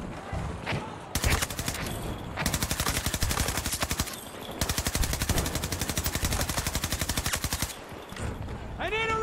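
Rapid bursts of SMG fire in Battlefield 2042, long continuous strings of fast, evenly spaced shots, loud and close, separated by brief pauses, with no voices over it.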